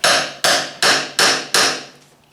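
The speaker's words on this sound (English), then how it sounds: "I'll have to hit them again with that air hammer to shear some more of it off" Five loud, evenly spaced bursts from an air hammer shearing rivets on a 1974 Polaris Custom II snowmobile track, each hitting sharply and fading before the next, close and with no talking.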